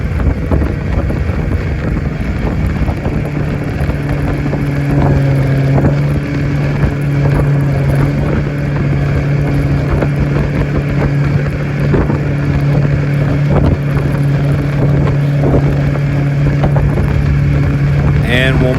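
Boston Whaler motorboat with its engine running steadily at speed, a continuous loud drone with strong wind buffeting across the microphone throughout, no pauses.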